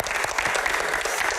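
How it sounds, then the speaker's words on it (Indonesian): Audience applause for Bang Akbar at a Q&A event, a short dense burst of many hands clapping, steady and fairly loud with no voices over it. "Tepuk tangan untuk Bang Akbar."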